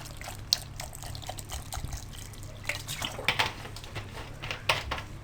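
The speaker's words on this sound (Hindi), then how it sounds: "आपने पहले आधा गिलास पानी डालना है।" Half a glass of water is poured over falsa berries while making sharbat, a faint, uneven trickle with scattered drips and splashes, close up and without speech.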